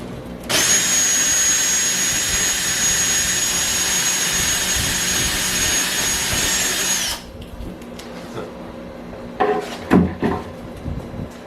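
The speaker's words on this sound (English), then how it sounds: "We'll just drill a small hole to start," A power drill whines loudly for several seconds boring a small hole into a wall, then stops, followed by a few scattered knocks and scrapes.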